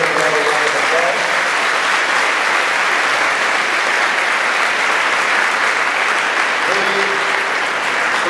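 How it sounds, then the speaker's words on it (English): Sustained audience applause at a political speech on Iraq, steady dense clapping filling the whole stretch at close, loud level with no break. "Please give him another round of applause."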